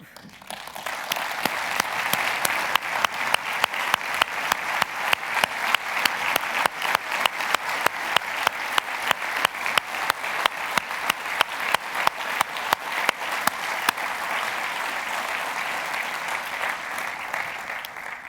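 A large audience at a state address applauds military and law enforcement members, a loud, sustained wash of clapping with a steady rhythmic pulse that runs unbroken for nearly twenty seconds.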